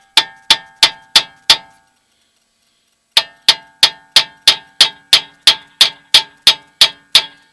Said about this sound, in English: Doesn't work, get a bigger hammer.